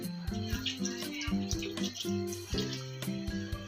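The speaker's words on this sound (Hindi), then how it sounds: "3 कप चावल में हम 6 कप पानी डालेंगे" Water poured into a cooker holding rice for a Hindi-style potato rice (tahari) dish, a close splashing and gurgling stream with wobbling tones as the level rises.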